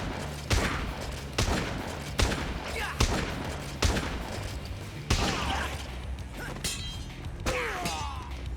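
Shotgun blasts in the video game Dead Rising 2 Off The Record during a boss fight, several loud sharp booms spaced roughly a second apart, with game effects and a voice underneath.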